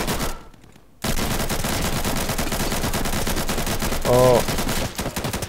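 A Sterling submachine gun fires in rapid automatic bursts in the game Insurgency, loud and close, after a short quiet gap at the start. A voice briefly exclaims near the end.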